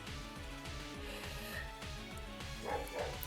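A household dog yaps a couple of times near the end, faint and short, while repetitive Pokémon battle music plays continuously underneath.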